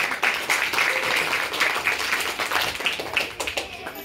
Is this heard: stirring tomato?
no